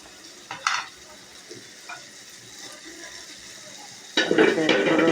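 Spices sautéing with a fish head in a pan after a splash of water: quiet, scattered clinks and soft stirring, then a sudden loud burst of sizzling near the end.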